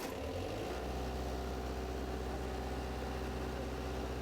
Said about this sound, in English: Now let's get the engine started.